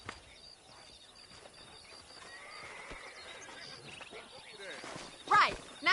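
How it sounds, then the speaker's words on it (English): Horses neigh and whinny in a Western video game with ranch horse wrangling, several calls over faint hoofbeats and ambience, the loudest whinnies near the end, with talk earlier. "Let's see if we can't wrangle some horses."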